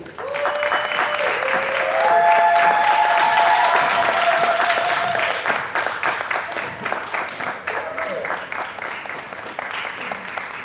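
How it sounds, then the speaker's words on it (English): Loud, steady applause from a panel discussion audience swells and then tapers into scattered clapping, with a few voices calling out over it. "Clap her up, clap her up."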